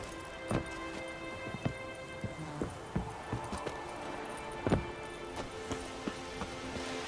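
Hooves of Roach, the horse in The Witcher 3, clip-clopping at a walk, with irregular sharp hoof strikes over a soft background and occasional faint voices.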